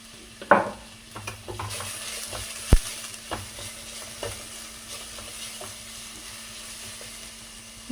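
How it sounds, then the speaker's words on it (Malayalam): Onions fry in oil for pepper chicken, a low steady sizzle under occasional stirring scrapes and a couple of sharper knocks of a spoon against the pan, close and moderately quiet, with no speech. "ഉള്ളിയെല്ലാം നന്നായിട്ട് ഒന്ന് മൂത്തിട്ടുണ്ട്"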